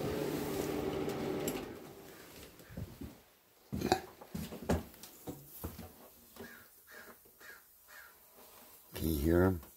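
Ravens caw in alarm at a nearby hawk perched in a tree, a series of harsh, uneven calls rising and falling at moderate distance, with a person talking at times.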